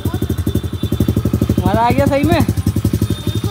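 Small 125cc dirt bike engine running close by in India with a steady, rapid single-cylinder thump and a slight rise in revs midway, while voices talk over it and a brief tonal chirp sounds.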